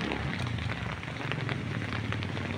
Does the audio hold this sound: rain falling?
yes